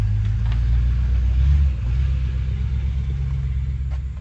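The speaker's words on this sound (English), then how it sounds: "There's a lot of trucks" Heavy road traffic with trucks passing, a steady loud low rumble of engines that swells briefly and then eases slightly, with no voices over it.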